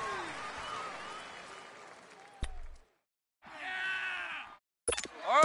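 Stadium crowd noise in a PS4 football video game, a roaring mass of groans and cheers that drops out abruptly, returns in a loud burst, cuts again and surges back, with commentary voices mixed in.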